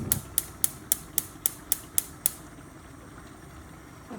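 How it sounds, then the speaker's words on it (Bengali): A gas stove is switched on to heat a frying pan with a rapid series of about nine sharp, evenly spaced igniter clicks. The clicks stop and leave a faint steady hiss, with no one talking. "স্টোভ অন করে দিলাম"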